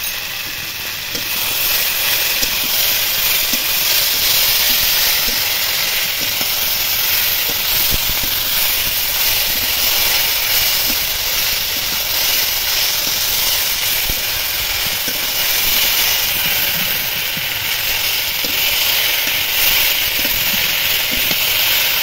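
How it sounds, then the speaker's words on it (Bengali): Fish curry masala with ginger paste stir-fried in hot oil gives a loud, steady sizzling hiss. It holds close and constant throughout, with no voices. "এবার আদা বাটা দেবো, দিয়ে আবার কষিয়ে নেব"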